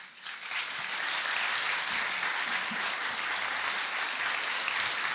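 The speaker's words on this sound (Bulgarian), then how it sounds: "Да ги посрещнем с аплодисменти!" An audience at a celebratory concert applauds as a children's concert choir comes on stage, many hands clapping in a dense, even roar that swells quickly and holds steady, fairly loud and slightly distant.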